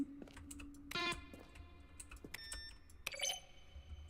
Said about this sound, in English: A section of the sounds used throughout the game when buttons are pressed. Each sound is a mix of keyboard strokes and synthesized tones.